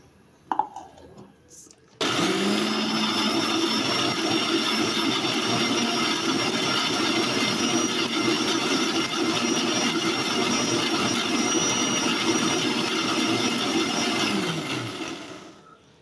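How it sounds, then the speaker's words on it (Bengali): A blender grinds raw chickpeas for kebab in a home kitchen, running as a loud, steady whir for about twelve seconds after a brief quiet start, then winding down at the end. "ব্লান্ড মেশিনে কাঁচা ছোলা দিয়ে আমার গিন্নি ব্লান্ড করে নিচ্ছে"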